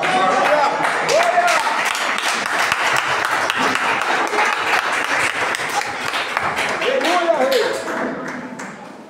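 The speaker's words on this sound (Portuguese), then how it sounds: "Desocupar suas mãos e bater uma salva de palmas" A church congregation applauds at an evening service: dense, sustained clapping fills the room for several seconds, with voices rising through it before it thins out near the end.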